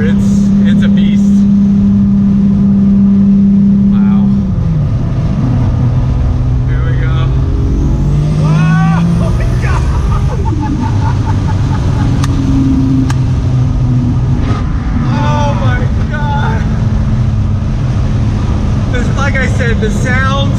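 A 1993 Toyota Supra MK4 with a 2JZ engine rumbles steadily and loudly throughout, with a steady idle tone early and then shifting engine pitch, while people talk over it.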